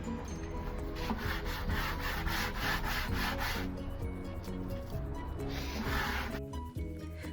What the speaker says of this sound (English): So you want to be sure to sand it really well.